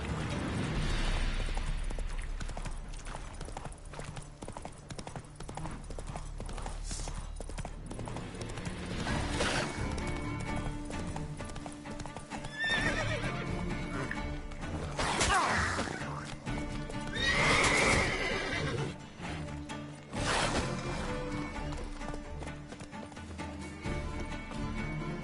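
Geralt's horse Roach in The Witcher 3 neighs loudly several times while hooves clip-clop at a gallop, set against game ambience and sound effects, with brief talk.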